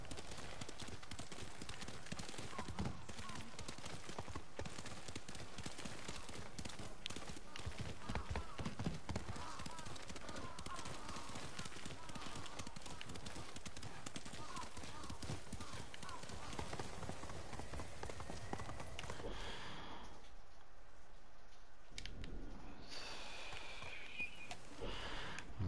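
Galloping horse in the video game Ghost of Tsushima, a steady rapid clip-clop of hooves running continuously with game music and ambience, briefly dropping out near the end while a person talks over it.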